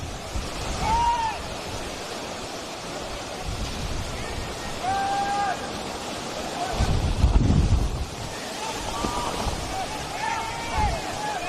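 Wind roars steadily across the microphone in blustery gusts at Valley Road football ground in Devonport, Tasmania, during a soccer match, with a few faint, distant whistles sounding through the rush.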